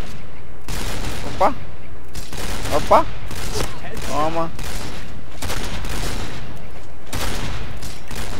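Rapid bursts of gunfire in the shooter game Point Blank, sniper rifle with silencer, sharp repeated shots close and loud, with a man's brief exclamations over them.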